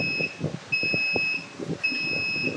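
A low-level alarm on a water refilling station control panel beeps in steady, repeated long electronic tones, three pulses at an even rhythm, over a quiet room with faint background noise.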